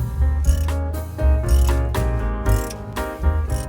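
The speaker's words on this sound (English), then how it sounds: "Tightening down head bolts." A ratchet wrench tightens the cylinder head bolts on a Ford Flathead V8 8BA engine, giving loud, close, rapid clicking bursts in short repeated strokes with brief pauses between them.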